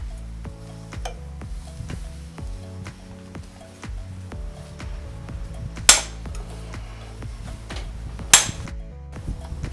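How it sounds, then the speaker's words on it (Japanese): A hammer striking a manual impact driver to free stubborn Phillips screws holding wiring on a Kawasaki Zephyr 750 / ZR-7S engine during a motorcycle repair. Two sharp metallic strikes stand out over faint clinks and handling noise of tools, with no talking. "インパクトドライバーで叩いて緩めます。"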